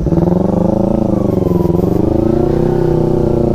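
Kawasaki Z250 motorcycle engine running close by on a solo ride, a loud, steady twin-cylinder thrum with slight rises and dips in pitch and no talk over it.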